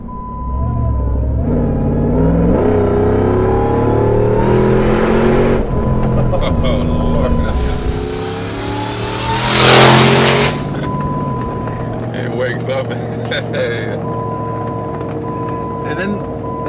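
A Jeep Wrangler fitted with a Hellcat engine revving and accelerating, deep rising engine roar climbing through gears with a sharp whooshing blast midway, heard from the cabin with people talking over it.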